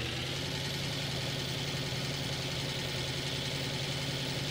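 A Ford truck engine in Farming Simulator 15 gives a steady, droning hum at an even level throughout, with no clear rise in pitch.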